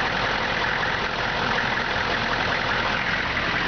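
A 6.5 liter engine in a 2002 Goshen Coach Work Horse 20-passenger bus idles at operating temperature, a steady, loud, unbroken rumble heard up close with no talking.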